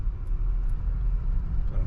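A car rolls past on a rainy street near the beach at Playa del Carmen, a steady low rumble with engine and tire noise that holds close throughout.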